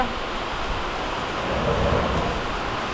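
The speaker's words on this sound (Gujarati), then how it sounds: "વરસાદ આવે જો ભાઈ વરસાદ વધ્યો" Heavy rain pours steadily with a deep rolling rumble of thunder underneath, a loud, continuous wash of storm noise with no voices.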